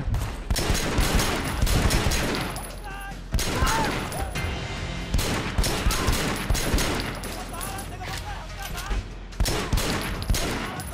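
Dense, rapid gunfire in the Triad Wars video game, repeated bursts of loud close shots in a rough rhythm throughout, with a voice talking in between.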